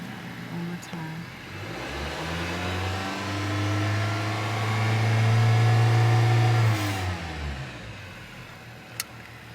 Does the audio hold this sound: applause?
no